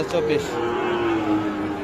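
A Sahiwal bull calf at a cattle market in Dinajpur lets out a single drawn-out low moo, close and clear above faint market background noise.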